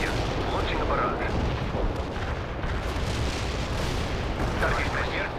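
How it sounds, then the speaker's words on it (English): Heavy artillery barrage in the World in Conflict strategy game, a dense, continuous rumble of booming impacts and blasts sustained loudly throughout without a break. "Launching a barrage"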